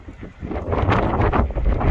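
Strong wind on the Beachy Head clifftop roars and buffets against the microphone, a low, rumbling gusty noise that builds after the first half second and stays loud throughout, with no voices.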